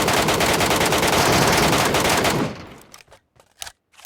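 Heavy automatic gunfire in PUBG Mobile Metro Royale, a loud continuous burst lasting a couple of seconds before breaking off into a few scattered, fainter shots and clicks.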